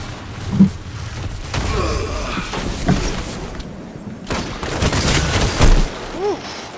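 Destiny 2 PC match combat, with bursts of gunfire and sharp explosive impacts scattered through the clip, fairly loud and close in the game mix, with a player's voice briefly heard among the shots.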